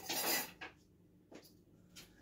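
Dishes, a spoon and cutlery clink and clatter as a breakfast tray is readied, a loud burst of rattling followed by a few separate knocks, close by with no talk.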